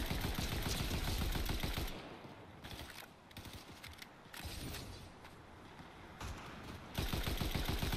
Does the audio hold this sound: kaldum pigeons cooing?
no